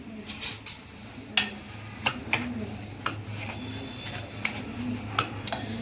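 Spoon clinking and scraping against a bowl while sabudana dhokla batter is mixed, a steady run of light metallic ticks close up with no talking.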